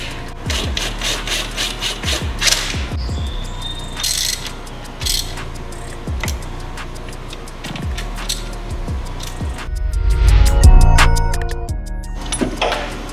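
A power tool runs bolts in around the spark plug area of a Mercedes M156 engine, giving rapid ratcheting, whirring bursts with metallic clanks and tool handling, loudest in a dense surge near the end; no talking.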